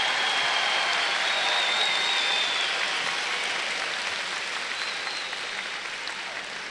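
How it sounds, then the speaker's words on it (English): At a 2022 high school graduation ceremony, a large crowd of parents and families applauds the graduates, a broad, even roar of clapping that carries steadily from start to finish and fades slightly toward the end. "let's give your sons and daughters and grandchildren a big round of applause"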